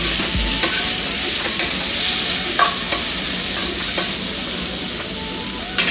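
Tomatoes frying in oil with garam masala sizzle steadily in a pan while a spoon stirs them, giving repeated scraping knocks over the constant hiss.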